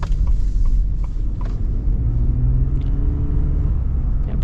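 A 2024 Ford F-150 with the 2.7-liter turbo engine accelerates, heard from inside the cab as a steady low rumble with a slowly rising engine tone over road noise, with no talking.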